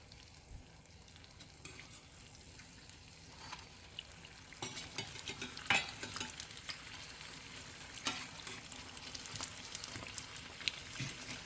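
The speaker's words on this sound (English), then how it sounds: "we're just gonna fry it until it's golden brown" Turon, a plantain snack, fries in hot oil with a continuous close sizzle scattered with sharper crackles and pops that grow busier partway through.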